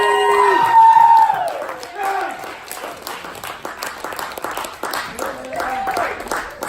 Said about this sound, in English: stand on your feet, give him a clap